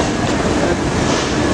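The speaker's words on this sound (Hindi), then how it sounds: "फाइनली अपने ऑन टाइम 5:10 पे हमारी Deccan queen express platform number 9 से डिपार्ट करी दोस्तों" Deccan Queen Express rolls out of Mumbai CSMT, a dense, steady rumble of wheels and carriages heard from onboard, loud and continuous with a faint clickety-clack.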